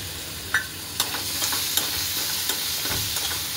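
Chillies frying in a pan for potato paratha filling, a steady sizzle close by with occasional sharp spoon taps and scrapes against the metal as they are stirred, no speech.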